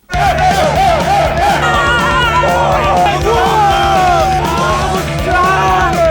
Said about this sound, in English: The crowd broke in, like 200 people.